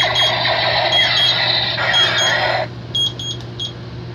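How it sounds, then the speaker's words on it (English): A kitchen-style timer beeps in quick repeated bursts of shrill electronic tones, loud and near over a low hum, then a few fainter separate beeps trail off. "That was my timer right here."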